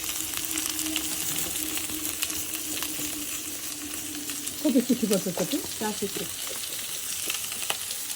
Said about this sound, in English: she's adding some green peppers in it